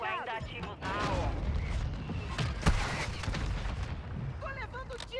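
Bursts of gunfire and booming blasts from the video game Warzone crackle under a talking voice, with sharp shots standing out amid a busy, noisy battle.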